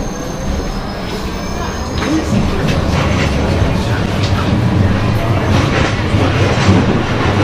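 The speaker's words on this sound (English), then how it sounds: "This tram is for Fleetwood Ferry." A Blackpool tram bound for Fleetwood Ferry rumbling along rails, steady and loud from inside, with faint wheel clatter and a rising hum as it moves.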